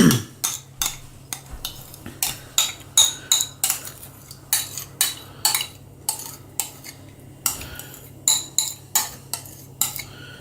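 Mutton chops marinade being mixed with a cup of yogurt, a spoon or utensil clinking against a metal bowl in a steady run of sharp taps and scrapes, close and fairly loud, with no talking.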